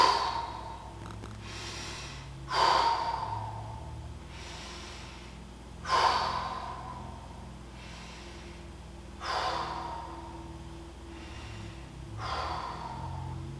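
Slow, deep breaths during slow bodyweight squats: about five breathy exhales rise and fade at a steady, unhurried pace, close and quiet, with no talking.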